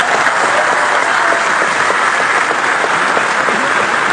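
Loud, dense applause from a large audience at an Indonesian political party gathering, steady sustained clapping with no letup across the whole stretch.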